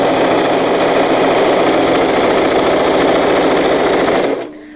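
A sewing machine stitches a zippered wetbag with its shiny sides turned in and the soft fabric side facing up, running in one steady close whir before stopping abruptly near the end.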